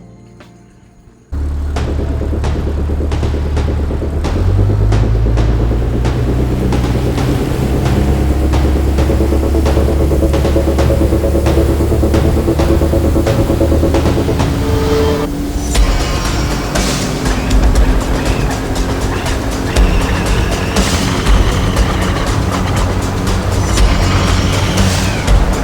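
A boat's engine starts up and runs loud and steady as the vessel shoves off from a creek anchorage, a constant rumbling drone with some rattling and knocking layered over it.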